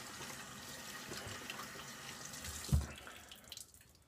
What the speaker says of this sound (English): I'm just gonna use it and wash my hands with it